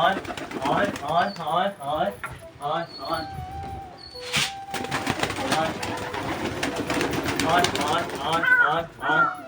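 Pigeons coo and warble repeatedly in a flock, close by, with a person talking over them and a sharp clatter partway through.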